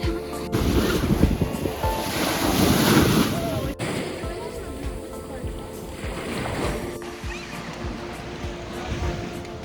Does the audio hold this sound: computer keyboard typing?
no